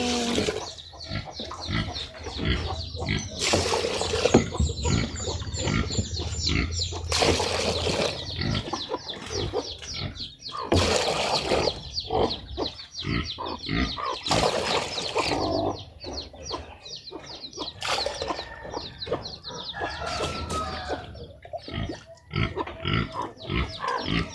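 Pigs grunt and squeal continuously up close, a busy, noisy pen with some clucking fowl mixed in the background.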